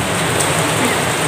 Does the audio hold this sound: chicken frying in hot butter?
no